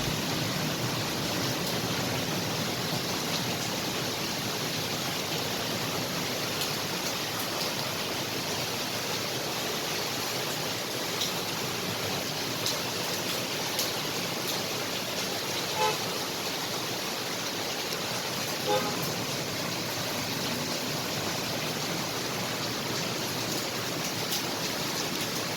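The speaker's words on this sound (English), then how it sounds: "it has really started raining cats and dogs again" Heavy, record-breaking rain pouring in the UAE as a dense, loud, continuous hiss, with traffic and car horns faintly audible beneath it, and no talking.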